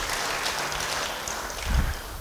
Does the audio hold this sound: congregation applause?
yes